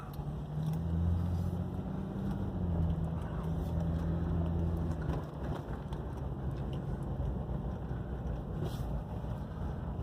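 A 1996 Toyota Land Cruiser FZJ80 drives along with a steady low engine and road drone, heard from inside the cabin with some wind noise and a faint voice.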